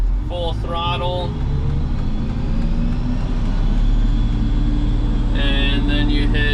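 A grain dryer's engine being throttled up to full power on a farm, a loud steady roar running throughout, with brief bursts of a voice at the start and the end.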